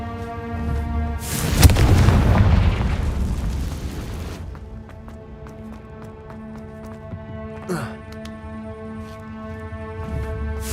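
A Confringo fire spell explodes in Hogwarts Legacy, a loud sudden blast with a roaring, crackling burst lasting a couple of seconds, then fading into sustained tonal game music and softer effects.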